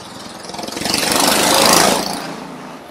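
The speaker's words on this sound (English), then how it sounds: "y'all know the motorbikes, boy." A motorbike engine swells as it passes close by, rising to a loud broad roar at the midpoint and fading away again, alone without talk.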